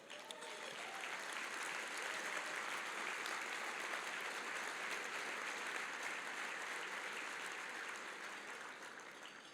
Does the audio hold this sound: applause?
yes